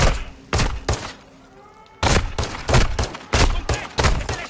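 Loud bursts of gunfire in the Modern Warfare 2 campaign, quick irregular volleys, close and sharp, with a short quiet gap before a heavier run of shots.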